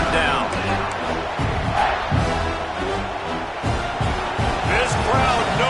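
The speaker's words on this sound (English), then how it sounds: "This crowd knows when to bring it." Stadium crowd in a college football video game featuring Clemson, a loud, continuous roar with rhythmic surges and thumping, heard close and dense under a commentator's talking throughout.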